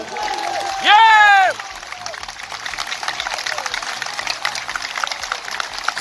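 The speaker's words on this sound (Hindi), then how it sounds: "एक बार बेचैनी के लिए जोरदार तालियां।" A crowd at a Hindi-language employees' gathering breaks into crackling applause after a loud shouted voice from the stage. The clapping continues as a steady, dense patter for several seconds.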